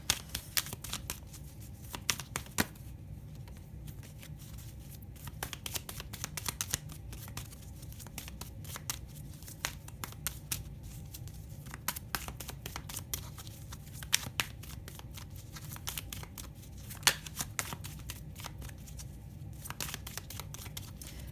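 French cartomancy cards are handled and shuffled at close range, giving faint, repeated crisp snaps and riffling flicks in irregular bursts over a quiet background.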